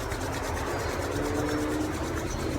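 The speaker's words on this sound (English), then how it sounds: "We're going to rub our hands together." Palms rub briskly together during a yoga session, producing a steady, close, dry swishing friction that continues evenly throughout without any speech.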